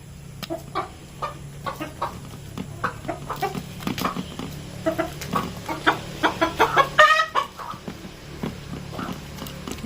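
Several chickens cluck near the microphone in short, irregular bursts, with a few louder squawks toward the end over a low background hum.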